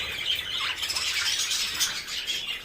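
Canaries chirp and tweet continuously in an indoor breeding cage, bright overlapping calls near and fairly loud, with no talking.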